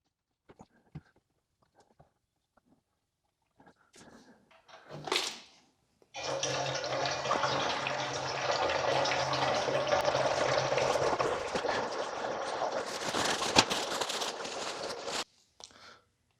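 Engine oil pouring from the drain of a 2019 Subaru Crosstrek into a drain pan, a steady broadband splashing stream that starts abruptly after a few faint clicks and runs for about nine seconds before cutting off.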